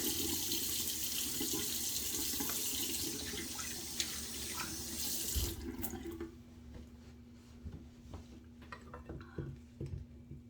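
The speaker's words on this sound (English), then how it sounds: "I'm gonna add some more water." Water runs from a tap in a steady hiss for about five seconds, then shuts off, leaving a quiet room with a few small clicks.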